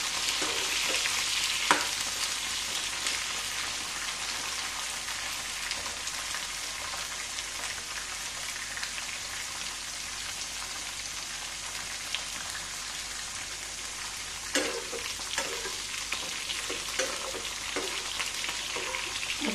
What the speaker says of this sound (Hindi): मैंने परवल को डाल दिया है, अब इसे हम भूनेंगे लो फ्लेम पे ही